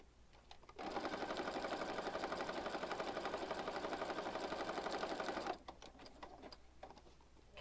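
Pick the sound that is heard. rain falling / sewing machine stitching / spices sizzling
sewing machine stitching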